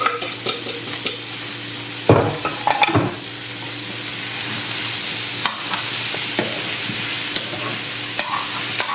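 Garlic sizzles with new potatoes in a frying pan, a continuous hiss broken by several scraping stirs and clatters of utensil against pan, with no voices.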